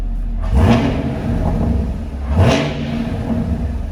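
A 2019 Camaro 2SS engine idles with a deep, steady rumble, with two brief revs swelling up and fading back, heard close with no talking.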